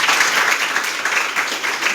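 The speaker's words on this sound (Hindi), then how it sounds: "एक बार ईश्वर के लिए जोरदार ताली मारो।" An audience applauds loudly and continuously at a speech, a dense steady wash of clapping filling the whole moment.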